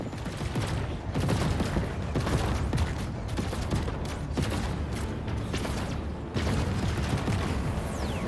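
Dense, sustained gunfire from the video game Chorus as enemy targets are shredded. The rapid bursts roar loud and unbroken for several seconds, with only a brief dip partway through.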